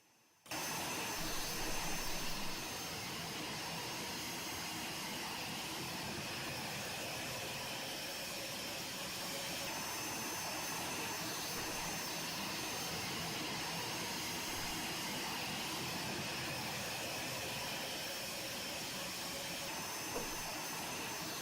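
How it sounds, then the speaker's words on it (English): An Eclipse jet in a flight simulator game gives off a steady, even jet engine whine and roar, constant and unchanging from start to finish after a brief quiet opening. "The aircraft fly by."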